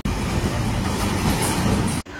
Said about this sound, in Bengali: ট্রামের দেখা পেয়েছি আজকে।